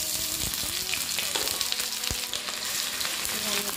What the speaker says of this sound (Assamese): ইয়াতে মই কাটি লোৱা পিঁয়াজ এটা দি দিছোঁ